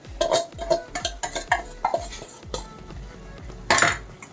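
Semolina being stirred in a metal pan for mango kesari, with a spoon clinking and scraping against the pan in a regular rhythm about twice a second, close and clear, with one louder clatter near the end.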